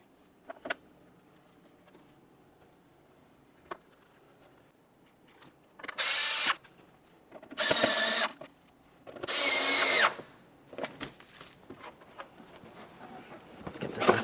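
A power drill drives mounting screws into the fender flap of a 2010-2013 Kia Forte Koup in three close, loud bursts of whirring, separated by quiet pauses and light clicks of handling.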